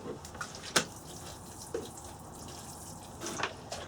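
Water drips from a freshly watered plant pot, a few sharp, separate drops over a quiet wet hiss, close by and unaccompanied by speech.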